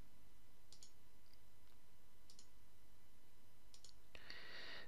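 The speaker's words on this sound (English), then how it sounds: "these are all right mouse clicks" Right mouse button clicks while digitising fill stitches in embroidery software, sounding as a few faint, sharp, spaced clicks in pairs against a quiet room, ending in a brief louder hiss.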